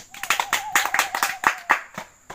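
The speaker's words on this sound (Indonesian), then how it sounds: "Tepuk tangan untuk kelompok 2." A classroom of students claps for a presenting group, giving a brisk run of distinct, fairly close handclaps that thin out toward the end, with a faint hum of a voice beneath.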